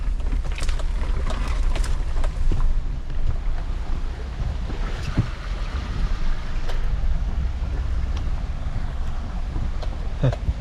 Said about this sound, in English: even this little dry creek here is flooded.